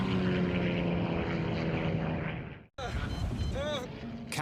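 A propeller airliner, Air Midwest Flight 5481, roars loud and steady with engine drone as it goes down, then a brief cutout and a shifting, whining engine pitch in a dramatized crash scene.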